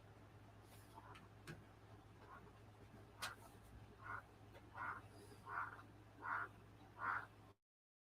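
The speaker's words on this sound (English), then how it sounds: "Got one of them frogs in here making all kinds of noise." A frog croaking indoors, giving a run of about six short croaks that grow louder toward the end, over a low steady electrical hum in a quiet room.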